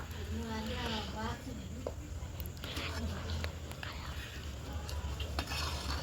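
Stirring a gooseberry (amla) pickle into tamarind sauce in a pot over a wood fire: soft, wet scraping and stirring with faint utensil clinks, close and quiet, alongside whispered talk.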